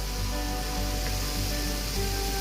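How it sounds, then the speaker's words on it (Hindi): Ginger garlic paste sizzling in hot cooking masala for an egg malai curry, a steady, close frying hiss that stays even throughout with no voices. "इस वक्त मैं यहाँ पे डालूंगी जो मेरा जिंजर गार्लिक पेस्ट है वो"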